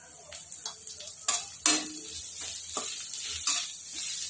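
Green chillies and turmeric crackling in a hot oil tempering for a spicy dry taro-root dish: uneven bursts of sizzling and spitting mixed with small utensil clicks, close and fairly quiet.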